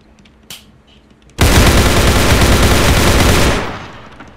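A BF-250 gun in a video game mod fires a sustained, very loud burst of rapid automatic shots lasting about two seconds, preceded by a small click, then tailing off into quiet.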